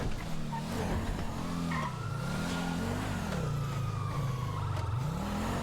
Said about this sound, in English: Oh, nice cop car.